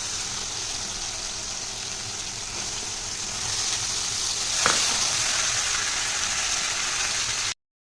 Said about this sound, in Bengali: এবার চাল কুমড়োটা দিয়ে ভালো করে একটু নাড়িয়ে দেব।